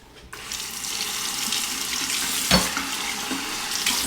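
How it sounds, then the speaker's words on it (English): Water runs steadily from a tap for a face rinse during a wet shave, a hissing stream that starts abruptly and continues close and fairly loud, with a brief splash partway through. "Now just a quick face rinse."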